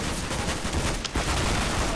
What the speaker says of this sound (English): Shotgun's got range in this game, which is great.